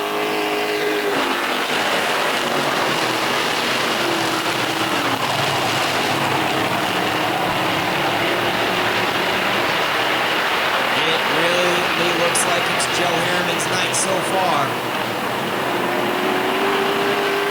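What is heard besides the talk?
race cars running laps on a track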